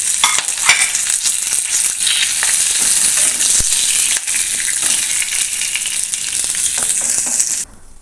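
Coconut and spices frying in a pan for a doddapatre tambuli, heard as a loud, close, continuous hissing sizzle with faint scraping stirs, cutting off abruptly at the end.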